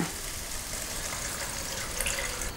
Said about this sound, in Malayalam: ഇതിനകത്തേക്ക് നമുക്ക് അല്പം വെള്ളം ഒഴിക്കാം.